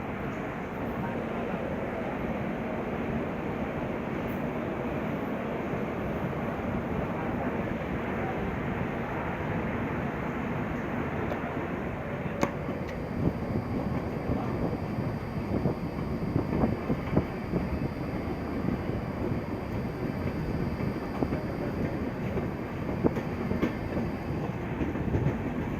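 The Swarna Shatabdi Express pulls away from Etawah Junction and runs on, heard from inside the coach as a steady loud rumble with rhythmic clickety-clack of the wheels over rail joints, continuous throughout.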